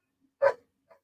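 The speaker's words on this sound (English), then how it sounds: "just stare at me through the door and bark" A single dog barks once behind a closed door, short and somewhat muffled at moderate distance. A much fainter yip follows in otherwise quiet surroundings.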